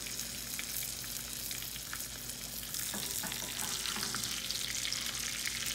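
Salmon fillet frying skin-side down in a hot pan gives a steady, dense sizzle and crackle that swells louder partway through, with brief stirring or shifting sounds and no talking.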